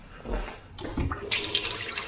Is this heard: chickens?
no